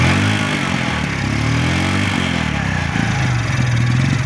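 Bajaj CT100 motorcycle engine with a suspected electrical short or faulty CDI, running unevenly at close range, its steady mechanical drone wavering and stuttering in pitch without any talk.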